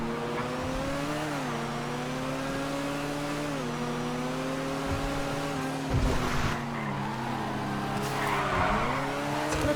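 A Schwarzer Classic Custom car in GTA FiveM drives steadily with a droning engine whose pitch rises and dips through gear changes, and short bursts of tire skidding and squeal break in near the middle and end.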